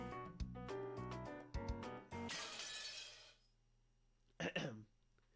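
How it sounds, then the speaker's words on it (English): Glass shatters loudly in the Umineko no Naku Koro ni Chi video game, a bright crashing burst with a fading tinkle, set against game music and followed after a pause by a second short clinking crash. "he hears the glass breaking"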